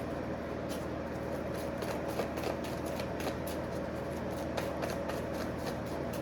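Tarot cards being shuffled in steady, continuous riffling, close and fairly loud, with no voice over it.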